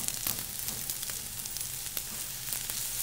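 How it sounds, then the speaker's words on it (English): Korean scallion pancake made with rice flour frying in a pan, a continuous quiet sizzle broken by light taps and scrapes of a spatula against the crispy edges. "what makes the crispy surface and the crispy sides that you hear me hitting on is the addition of the rice flour"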